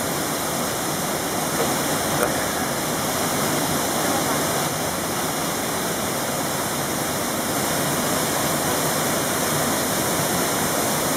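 The Trevi waterfall on the Aniene river in Lazio, springtime, roars as a steady, loud, unbroken rush of falling water filling the whole scene, close by.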